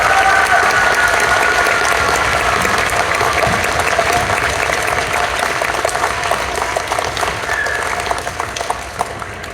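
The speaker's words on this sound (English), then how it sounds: "Please join me in giving them a round of applause." Audience applause at an elementary school award ceremony, a loud, continuous wash of many people clapping in a hall, holding steady and then thinning slightly toward the end.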